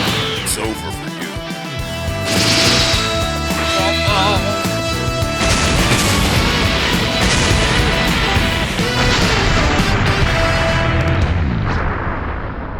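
A loud, dense blast from the video game Dragon Ball New Hope follows a special beam cannon attack, a sustained rumbling explosion with crackling debris layered over game music, lasting the whole stretch at steady high volume.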